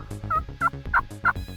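Several turkeys gobble in a rapid, rattling series of calls, each burst loud and close with short gaps between them, and no talking.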